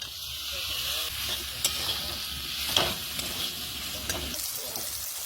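Mutton fat (charbi) frying in a pan with tomato and ground cumin, turmeric and Kashmiri chilli, giving a steady close sizzle with a few sharp scrapes and clinks of stirring throughout.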